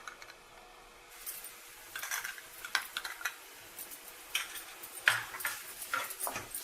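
A spoon stirs turmeric through fried onions in a pan, with a series of close, irregular scraping clinks and taps against the metal over a quiet background.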